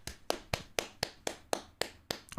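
One person clapping alone, close up: about ten sharp claps in a quick, steady rhythm with no crowd behind them.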